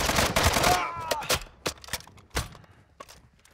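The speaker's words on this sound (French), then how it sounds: "Ouais, ça me tire." Gunfire in Call of Duty: Warzone 2 on Ashika Island, aimed at the player, with a burst of shots up front followed by scattered single cracks and impacts, loud and close.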